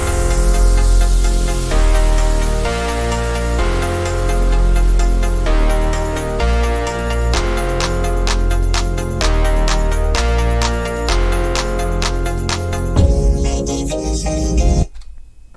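Future house track built in FL Studio Mobile, with a loud pounding kick, bright chopped synth chords and rhythmic plucks driving steadily, then a distorted sweep near the end before the music cuts out.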